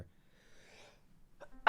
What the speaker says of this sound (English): Bless you, salud.